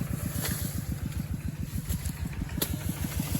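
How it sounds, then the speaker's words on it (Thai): A farm tractor ploughs a rice paddy nearby, its engine giving a steady, rapidly pulsing low chug that continues throughout, with a faint hiss of outdoor air and a couple of small clicks on top. "ได้ยินเสียงรถนะคะก็เป็นรถไถนะคะ เป็นรถไถของนะคะของชาวบ้านนะคะ ไถทำนานะคะ"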